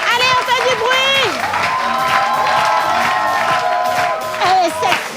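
A crowd at a festive French event cheers, claps and shouts continuously, loud and close, with an amplified voice speaking over the noise and children's voices mixed in.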